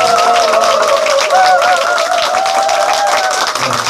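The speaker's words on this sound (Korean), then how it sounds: "오늘 7레벨에 등극하신 강창원 프론티어께 큰 격려와 감사의 박수 부탁드립니다" Clapping from an audience honouring a member's promotion to level 7 at a company event, a steady, moderate patter of hands running beneath a sustained melodic tone that carries throughout.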